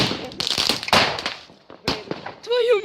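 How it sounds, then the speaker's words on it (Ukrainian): New Year's Eve fireworks go off close by in a quick crackling string of sharp bursts and pops, with excited voices shouting over them. "Сейчас наши будут салюты."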